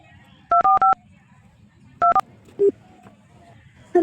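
Phone keypad tones beep in quick clusters, first three, then two, then single presses, each short and clear over faint background murmur.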